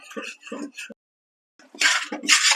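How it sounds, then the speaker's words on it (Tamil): A spoon stirs a thickening seven-cup burfi mixture in a pan, giving scraping clinks and rattles in two short bursts after a stretch of talking. "இன்னும் திக்காகிற அளவுக்கு நம்ம கிண்டிகிட்டே இருக்கணும்"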